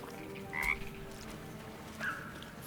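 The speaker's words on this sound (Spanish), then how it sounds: "Frog's entire body shakes. It ribbits erratically as if in pain." A frog in a video game croaks in two erratic, high squeaky ribbits about a second and a half apart, faint over a low ambient hum, with no talking.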